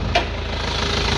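A 2.5-litre diesel engine in a used Isuzu Panther LM runs at idle, a steady low rumble with a faint rhythmic knock, heard close and alone.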